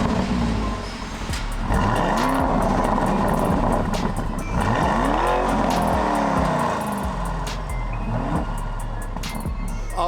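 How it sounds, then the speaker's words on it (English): Straight-piped 2021 Lamborghini Urus V8 exhaust, loud and close, with a crackling, burbling idle broken by several sharp revs that rise and fall in pitch. "oh my God, I love that exhaust. So let's fire it up, and we'll see what it sounds like."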